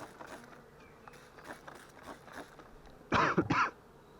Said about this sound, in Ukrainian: Якась така реакція, що викликає кашель